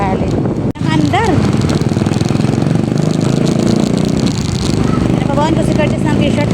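A motorcycle engine drones steadily throughout a ride on a hot day, close and loud, with people talking over it.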